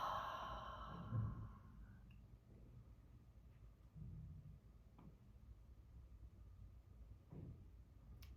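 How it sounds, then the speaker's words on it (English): Slow, deep breaths in a guided relaxation exercise, with the ribs expanding as the lungs fill: soft, faint sighing exhales and inhales spaced a few seconds apart in a quiet room. "let's take 2 more breaths here, expanding out"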